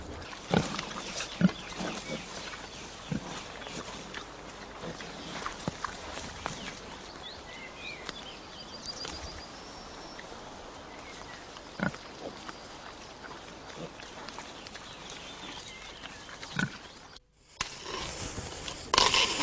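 Pigs rooting and digging in an orchard on a permaculture plot, with scattered grunts, snuffling and scraping of soil close by over steady outdoor background noise, and a brief drop near the end.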